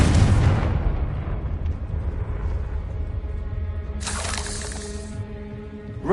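Confringo fire-blast spell in Hogwarts Legacy: a loud booming burst at the start, then a sustained roaring rumble with a bright crackling flare around four seconds, fading with ringing tones and no talk.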